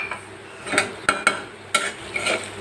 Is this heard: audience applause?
no